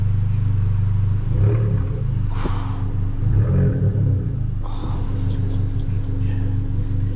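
A small Abarth car engine idles with a low, steady purr close by, with a couple of brief breathy noises over the rumble.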